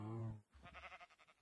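Several short, wavering bleats from a sheep in the modded Minecraft game Feed The Beast, repeated in quick succession and heard alone after a brief voice at the start.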